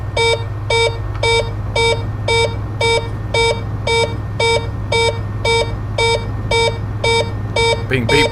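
Cockpit warning beeps sound in the Arrow III light aircraft in Flight Sim World: a rapid, regular train of bright electronic beep pairs repeats over a low steady engine drone, and a short voice cuts in at the very end.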